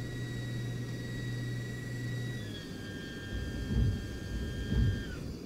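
Landing gear lowers in a home cockpit flight simulator: a steady engine and cockpit hum shifts tone, then two dull thumps land a second apart as the gear locks down, with no one speaking.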